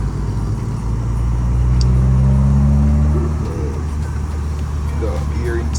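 A turbocharged car engine revs up and holds a loud, steady rising drone for a few seconds before easing off, with a faint hiss near the end suggesting the blow-off valve venting.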